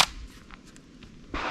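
A shotgun, either a Beretta 1301 Tactical LE or an IWI Tavor TS-12, fired during a Bill Drill. One sharp blast opens and another starts near the end, with a quiet gap between.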